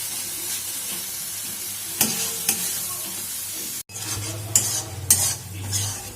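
Spices sizzle in hot oil for a potato and pointed gourd curry while a spoon scrapes and stirs the pan, with a few sharp clinks against the metal.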